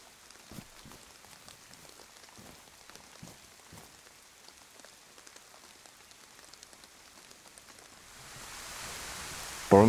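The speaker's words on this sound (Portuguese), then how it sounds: "Tá chovendo, vai anoitecer." Rain falls in the video game DayZ: a soft, steady patter of drops on surfaces, quiet and even throughout, swelling into a louder wash of noise near the end.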